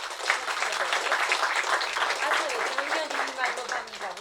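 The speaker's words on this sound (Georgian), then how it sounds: "მინდა უდიდესი მადლიერება გამოვხატო ჩემი კოლეგების მიმართ და ტაში დაუკრათ ბავშვებო" Schoolchildren at a school gathering applaud in a dense, continuous wash of clapping, with a voice talking over it throughout.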